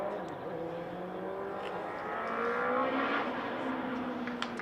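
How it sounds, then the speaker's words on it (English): Motorbike doing laps near a county cricket ground, a distant engine note rising and falling steadily as it passes, moderately loud over a broad background hum. "I think that motorbike just might be doing laps."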